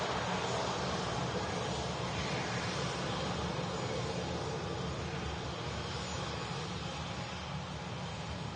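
A steady, continuous engine drone from a light aircraft flying near Manchester Airport, a constant broadband roar that holds evenly throughout with no talk over it.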